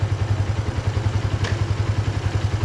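A Yamaha R15 V2 motorcycle engine idles steadily just after starting, a close, even low-pitched putter with a regular pulsing beat and no talk.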